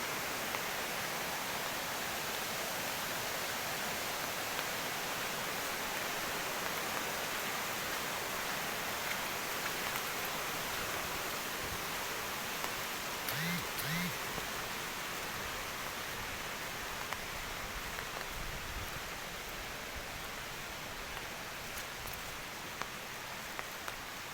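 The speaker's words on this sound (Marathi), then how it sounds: "फुल भरून वाहते पाणी" A flooded river running brim-full after overnight rain in rural Konkan makes a continuous, dense rushing wash, heard alone, with a brief low thump near the middle.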